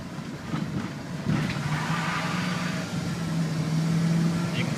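A 2001 Dodge Ram Van 2500 engine idles steadily with a low, continuous hum and faint droning overtone, fairly near and without talk.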